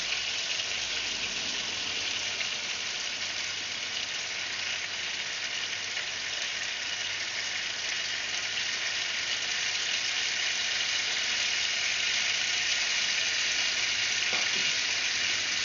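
Butter and honey frying in a preheated oiled pan for a garlic honey butter salmon sauce, a steady, even sizzle that holds at the same level throughout with no talking.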